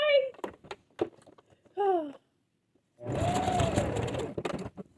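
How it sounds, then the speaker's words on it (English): A sewing machine stitches binding onto a fabric mug mat, a close, steady mechanical whir running for about two seconds near the end, preceded by a voice and a few small handling bumps. "Let's see if I can get this binding sewn on here."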